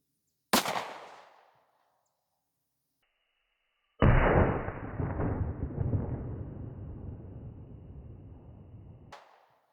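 A Glock 43X with a 3.4-inch barrel fires 9mm Sig V-Crown 115gr JHP rounds into a ballistic gel block: a sharp, brief shot, a short silence, then a louder blast that rolls into a long, fading rumble outdoors.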